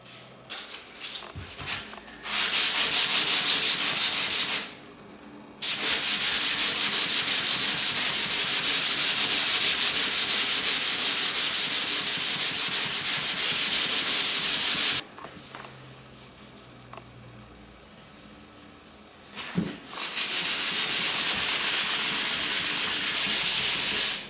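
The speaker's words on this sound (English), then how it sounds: "Then I can fill the nail holes and give these a sand ready for painting." Long steady sanding strokes on fitted wooden skirting boards, a close, loud hiss-like rasp in extended passes with short pauses between them.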